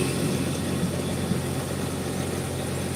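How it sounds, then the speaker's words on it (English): A loud engine idles steadily nearby, a constant low rumble and drone with no change in pitch and no voices over it. "I don't know why that engine over there is so loud"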